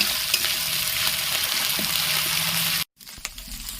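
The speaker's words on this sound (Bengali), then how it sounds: "এরপর এটাতে দেব আদা রসুন বাটা এটা ভালো করে ভেজে নিতে হবে" Ginger garlic paste sizzles and fries in hot oil in a pan, a steady loud crackle running close and continuous, then cut off abruptly by a brief silence before fainter sizzling and clinks return.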